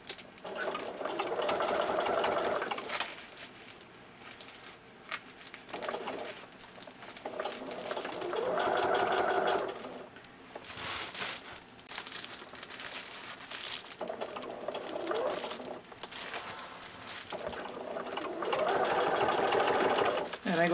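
A sewing machine stitches fabric joined to Reflectix reflective insulation for RV window covers, running in steady mechanical bursts with short pauses between them, while a person talks over it.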